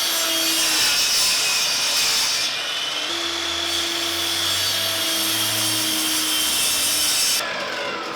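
A table saw cuts through a large piece of wood, its steady whine and rasping bite holding loud and close for several seconds before the blade spins free.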